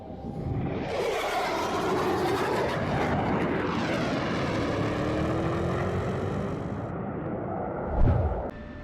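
F-16 Viper jet engine in the DCS flight simulator, a steady loud turbine roar with a rising whine as the fighter sits on the runway, ending in a short thump.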